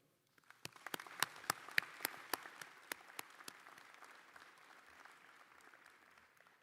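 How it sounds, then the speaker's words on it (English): Scattered hand clapping builds into a sustained round of applause from a university commencement audience, fairly distant and soft. "giving a round of applause to say thank you to everyone who helped you reach this milestone"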